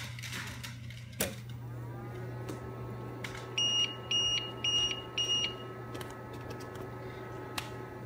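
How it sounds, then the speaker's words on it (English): Battery backup unit on a 20-gallon long all-in-one reef aquarium, unplugged from the wall, gives four short, evenly spaced electronic beeps over a steady low hum of running equipment. "So now you can hear it is beeping at me, letting me know that it is running on battery backup."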